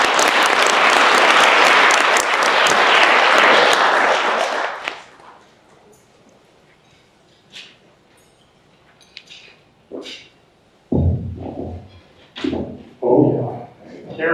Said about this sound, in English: Please join me in welcoming John.